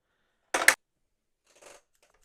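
Two quick snips of scissors close by, crisp and sharp, cutting a plastic band off toy packaging, followed a second later by a softer rustling click as the cut band comes away.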